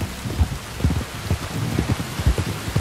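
Rain falling in the open-world western game Red Dead Redemption 2, a steady hiss of downpour with heavy drops and low rumbling thuds pulsing irregularly underneath, no voices.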